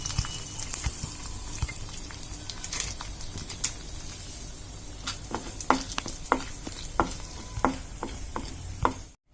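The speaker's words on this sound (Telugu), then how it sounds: "ఇప్పుడు పోపు పెట్టుకుందాం తాలింపు దినుసులు వేసుకుందాం" Oil sizzles and spits as tempering spices, mustard seeds and cumin, fry, with a series of sharp crackles and pops growing busier toward the end.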